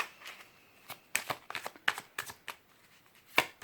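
Tarot oracle cards are shuffled, handled and drawn in a quiet room. Soft, irregular slaps and flicks come close by in short bursts.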